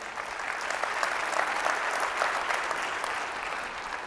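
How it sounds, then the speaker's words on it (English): Conference audience applauding at a payments industry summit, steady dense clapping filling the room for about four seconds with no talk over it. "a round of applause for the team."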